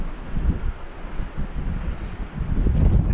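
Wind gusts across open ice at an ice-fishing spot, a steady low roar with rustling buffets that swells louder toward the end, with no other sounds over it.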